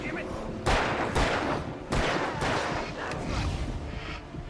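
Gunfire in Alan Wake Remastered, with several loud, sharp shots spaced about a second apart over a constant rumbling game background.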